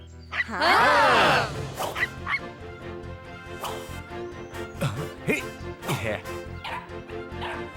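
A cartoon puppy yips, barks and whimpers in a rapid, high-pitched burst, followed by several shorter yelps, with background music or voices underneath.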